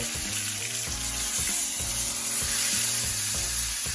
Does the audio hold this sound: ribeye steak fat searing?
yes